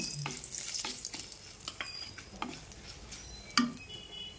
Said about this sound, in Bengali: তারপরে 2টো শুকনো লঙ্কা আর এলাচ লবঙ্গ দারচিনি দিয়ে দিলাম, মানে গোটা গরম মশলা দিয়ে দিয়েছি।